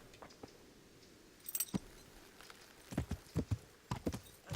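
Horse hooves clip-clop in Kingdom Come: Deliverance: a few scattered soft steps, then a quicker cluster of sharp hoof strikes, moderately close and clear with no talking.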